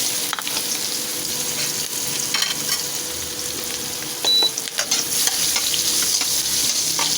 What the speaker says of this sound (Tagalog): Isangag na natin yung ating kanin, mga kaibigan.